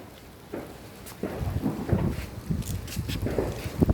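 Gusting wind and rain during a massive wind storm, rough rumbling bursts that build and buffet the microphone, with patter underneath and occasional thumps, fairly close and growing louder.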